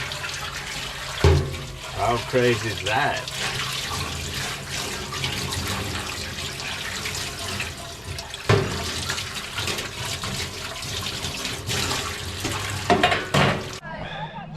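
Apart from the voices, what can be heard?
running water from a campsite sink tap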